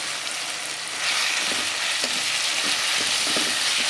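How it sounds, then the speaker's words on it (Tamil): Dried fish frying in a pan with softened onion and tomato, a continuous near sizzle that swells after the first second, with light intermittent stirring taps. "இப்போ இந்த கருவாடை வந்து இதில் ஆட் பண்ணிக்கிட்டோம்"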